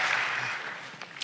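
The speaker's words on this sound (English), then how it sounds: "Slow clap." Audience applause in a conference Q&A session at SMX 2017: a steady, soft wash of many hands clapping, fairly distant, with a couple of sharper isolated claps near the end.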